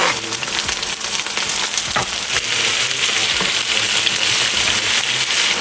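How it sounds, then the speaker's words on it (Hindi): Chopped garlic fries in a pan over a high flame, a dense, steady sizzle that stays loud and close throughout, with no talk. "अब मैं इसमें गार्लिक जो मैंने चॉप की हुई थी वो इसमें डाल दूँगी"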